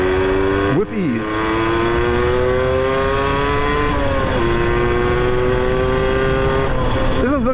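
A Yamaha YSR 50 small motorcycle engine revs steadily while being ridden, its buzzing note rising and dipping with throttle changes, loud and close throughout.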